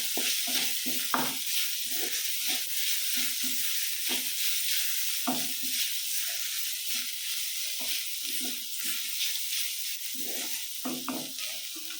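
Curry leaves and green chili frying in a pan while being stirred for a chicken roast, a steady sizzle under repeated close scraping and stirring strokes, with no talking.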